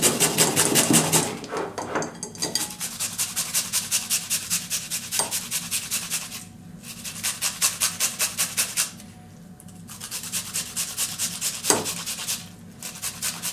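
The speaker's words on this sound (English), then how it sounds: "we grate this cucumber" An unpeeled cucumber grated by hand: fast rhythmic rasping strokes in steady bursts, close and bright, pausing briefly between runs before resuming.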